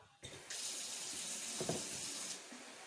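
Tap water pours steadily into a pot with a bright hissing rush, starting abruptly and tapering off at the end, close by.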